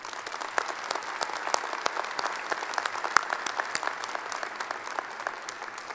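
Sustained applause fills a commencement ceremony honoring Dr. David Pyle, many hands clapping in a dense, even patter with scattered sharper claps standing out, and no voices over it.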